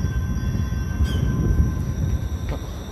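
A Bombardier light rail train on the ETS Valley Line rumbles past at close range, with steady low wheel and track noise and a faint squeal from the rails, and no voices.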